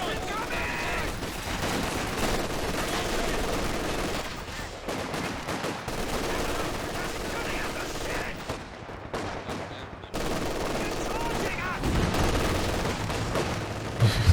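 Dense battle sounds from the strategy game Company of Heroes 2 in a 3v3 match: continuous rattling gunfire, machine-gun bursts and grenade blasts, loud and layered throughout with hardly a pause.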